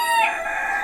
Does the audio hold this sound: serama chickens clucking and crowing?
yes